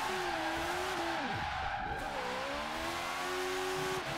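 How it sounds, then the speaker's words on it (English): Car tyres skid and squeal continuously while doing a donut in Forza Horizon 3, a loud sustained screech over revving engine tones with pitch sweeping down and back up midway. "Do a donut in this car."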